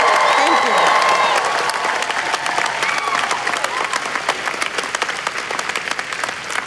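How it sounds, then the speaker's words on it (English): Commencement audience applauds university employees at a college ceremony, a dense, steady clapping from a large crowd that stays loud throughout and eases slightly toward the end, with some faint voices underneath. "can you please give them a round of applause"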